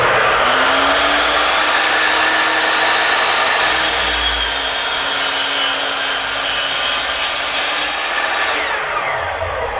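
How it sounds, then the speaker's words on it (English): A miter saw cuts through wood in one continuous loud whining, rasping pass lasting several seconds, the motor pitch steady and then winding down at the end. "what I'm going to do is just square it off over here on the miter saw"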